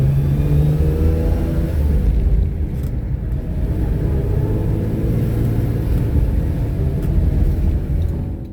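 A 1982 Ferrari 400i with a V12 engine and five-speed manual idles steadily up close, a deep continuous rumble holding even throughout with no talk over it.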